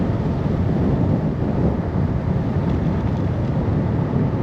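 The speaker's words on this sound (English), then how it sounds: "it's super windy. I don't know if you guys can hear the wind." Strong wind buffeting the microphone while riding a Segway GT3 electric scooter at around 31 mph, a constant low rumbling roar throughout with no speech.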